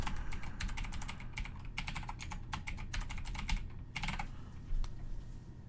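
Steady clicking of keys on a computer keyboard while setting up a virtual machine in VirtualBox, with rapid uneven bursts of keystrokes over a faint background hum and no speech.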